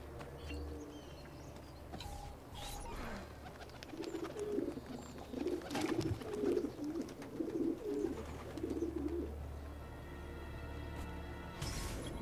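Pigeons coo at a rooftop dovecote in Florence in Assassin's Creed 2, with soft, repeated throaty phrases through the middle of the clip over a quiet game ambience.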